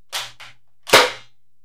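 A Nerf Rival Mirage blaster fires three sharp, snappy shots in quick succession: two close together, then a louder third after a short pause, each with a crisp pop and brief rattle.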